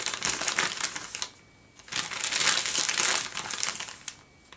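Paper napkin crinkles against tracing paper or freezer paper in close, loud bursts of crackling, two main stretches separated by a brief quiet gap.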